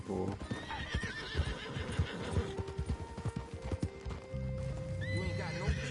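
Horse hooves clatter in a quick, uneven rhythm alongside loud neighing and whinnying in Red Dead Online, with a voice talking over the top of them.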